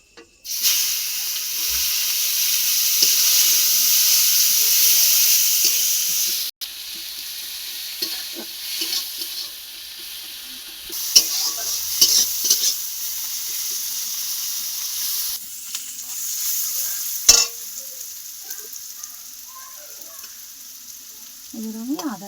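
Chopped onion frying in oil with bay leaf, dried red chilli and whole garam masala for egg masala pulao, a loud steady sizzle that drops suddenly, then softer crackling with scattered stirring scrapes and clinks.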